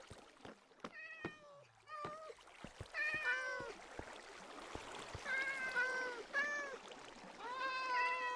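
Several Minecraft cats meow in a video game, the calls coming in repeated clusters, some drawn out, under light background clicks and a faint trickle.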